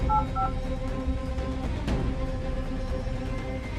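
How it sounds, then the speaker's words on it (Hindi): A telephone number is keyed in on a phone in a Hindi crime drama short film, a few short dialing tones near the start over a low background hum, with no speech. "और शेखावत के पास फोन मिलाता हूँ।"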